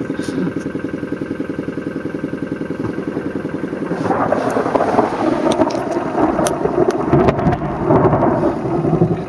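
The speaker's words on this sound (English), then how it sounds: "Real thunderstorms." Thunder rumbles loudly during a South African electrical storm, a low rolling roar swelling midway over steady rain and a running engine, heard from inside a vehicle.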